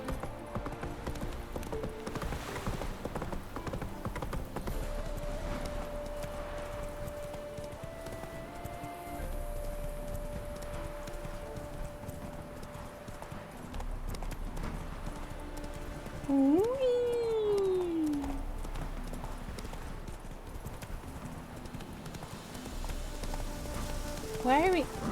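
Horse hooves pound steadily throughout as Roach gallops in The Witcher 3, a continuous rhythmic clatter under game music and ambience, with a brief rising whoosh near the middle.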